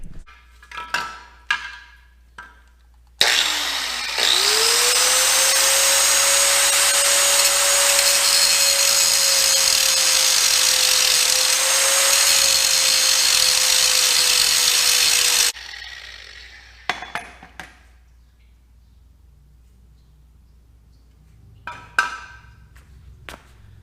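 A power tool whines loud and steady for about twelve seconds while notching metal on a Supra near the speed sensor plug, its pitch holding constant, with clanks and handling noises before and after.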